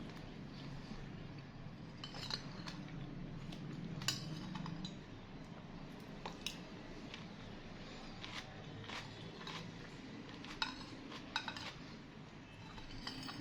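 A spoon scrapes and clinks against a plate to clear off the last grains of rice, a quiet, close series of irregular metallic scrapes and taps with no voices.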